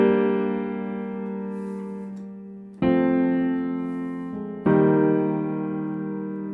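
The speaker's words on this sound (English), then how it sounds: "It's just a direct wave piano, and it sounds like this." A grand piano sampled in FL Studio's Direct Wave plugin plays three sustained chords, each struck cleanly and left to ring and fade, with the second and third arriving about two seconds apart.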